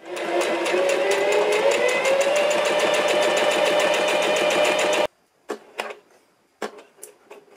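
A Singer Heavy Duty sewing machine runs test stitches in a fast, even mechanical whir for about five seconds. It stops abruptly, then a few sharp clicks and knocks follow at close range.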